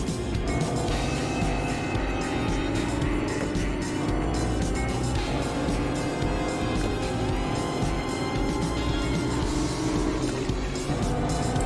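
A car engine drones steadily while driving in the video game Fortnite, the sound continuous and loud with busy game effects layered over it throughout.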